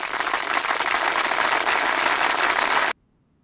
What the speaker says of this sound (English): That's a short applause, but that's an applause.